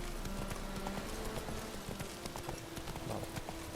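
Horse hooves clip-clopping in The Witcher 3 game, a steady rhythmic trot of repeated hoof strikes over a continuous ambient wash, with no talking.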